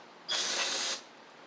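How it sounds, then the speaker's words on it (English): A single burst of aerosol cleaner sprayed into the deck jets of a Husqvarna Z4822 zero-turn mower hisses steadily for under a second, close and fairly loud, then cuts off. "Spray into the jets there, see if I can get them cleaned out good"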